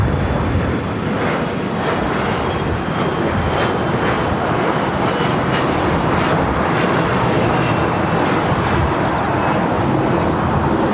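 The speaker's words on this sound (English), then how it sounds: "Southwest Airlines flight 2238, a flight heading to Chicago Midway on a 737 MAX 8." A Southwest Airlines Boeing 737 MAX 8 takes off at LAX, its jet engines a loud, steady, broadband roar that holds constant and close throughout.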